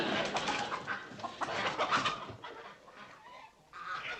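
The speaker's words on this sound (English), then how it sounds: "Just some chickens cackling in the lobby." Chickens cackling and clucking in a hotel lobby, a dense, busy flock chattering continuously at close range with overlapping squawks and no voices.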